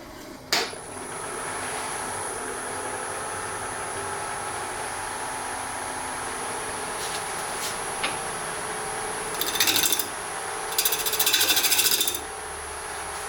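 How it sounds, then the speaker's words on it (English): Segmented wooden bowl spinning on a lathe while a 5/8 inch bowl gouge cuts the outside, a steady motor hum under scraping with louder rough cutting bursts near the end. "I have my crown 5/8 inch bowl gouge"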